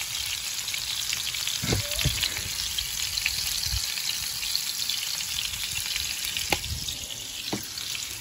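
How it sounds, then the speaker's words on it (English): Continuous oil sizzling and crackling from potatoes frying in a pan, with a few soft clinks of a utensil stirring. "They'll be kind of like a pan fried um, roasted Greek potatoes, kind of."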